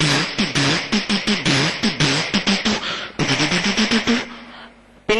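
A voice imitates an idakka, the hourglass drum of Kerala, at an arts festival stage, with rapid rhythmic pulses in quick bursts repeating steadily over several seconds, close and loud, ending in a brief sustained tone.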